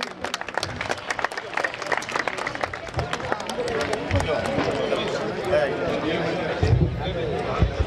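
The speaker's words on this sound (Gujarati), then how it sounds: "તાળીઓના ગડગડાટથી વધાવી લઈશું." Audience at a youth club snehmilan gathering breaks into loud, sustained clapping with crowd noise, while a voice talks over the applause.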